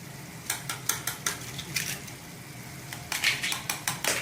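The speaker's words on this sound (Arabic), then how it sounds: "تتهرسوا البيض" Eggs being mashed in a pan for a Moroccan egg tagine, giving bursts of scraping and clinking from the utensil on the pan in quick repeated strokes, with a pause midway before another run of strokes.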